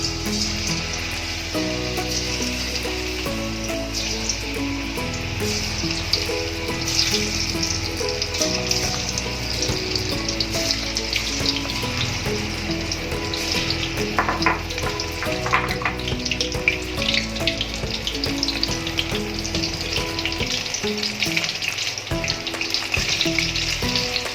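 Marinated soybean chunks frying in a pan for soybean tikka, a loud dense sizzle with crackling spatter and occasional stirring, continuous and close, no one speaking.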